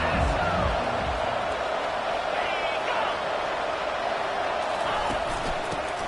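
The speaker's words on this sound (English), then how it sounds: "listen to this crowd noise. This stadium is vibrating." Loud, steady roar of a stadium crowd in the College Football 25 video game while the Auburn offense is on the field, with a commentator talking over it.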